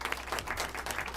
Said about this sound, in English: A big round of applause for our selectmen.